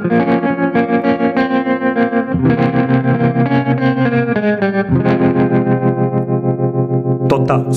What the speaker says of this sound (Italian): Eccolo qua, spring. Una lunghezza di riverbero generosa e un tono abbastanza aperto.